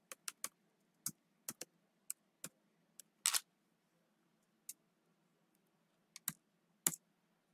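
Sparse, close keystrokes on a computer keyboard while entering a number into a C# calculator program, a few irregular clicks with pauses between them in a quiet room.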